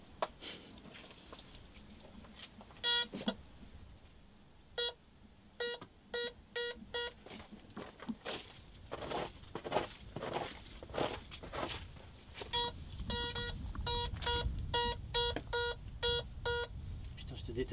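Beeping from a metal detector swept over the ground on a treasure hunt near Carcassonne, short repeated tonal bursts in clusters with people talking and footsteps around it.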